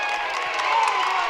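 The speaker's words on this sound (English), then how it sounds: "You can hear the crowd go a little crazy because they've finally got the travel call on Krasovich" Basketball crowd at a men's college game roaring and cheering after a travel call, a dense steady wash of voices and some clapping throughout, loud and close.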